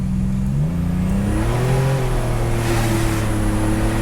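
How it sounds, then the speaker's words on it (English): A 1987 Buick Grand National's turbocharged engine builds boost while rolling, a loud, close, rising engine drone with a climbing turbo whine and a steady roar throughout. "What I'm going to do is I'm actually going to build boost while we're rolling."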